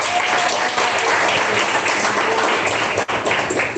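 Sustained applause from a church congregation, dense and steady clapping throughout at close range, with a brief dip near the end.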